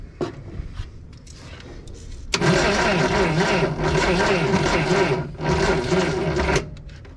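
An old Datsun 521 pickup engine cranks loudly in two long bursts with a short pause between them, grinding, popping and sputtering as it struggles to start on a weakening battery pack.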